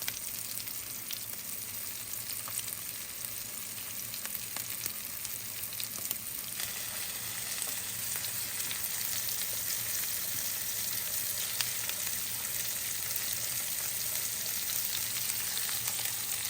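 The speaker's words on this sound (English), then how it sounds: "Once it is completely covered, I will put it in my oil." Breaded beef milanesa fries in oil with a soft, constant crackling sizzle and occasional sharper pops, fairly quiet and steady throughout, no talking.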